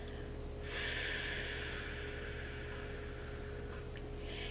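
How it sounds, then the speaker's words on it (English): A soft, breathy exhale through the mouth lasts about a second over a quiet background hum, followed by faint breath noise. "as you exhale through your mouth while making a little sound like this"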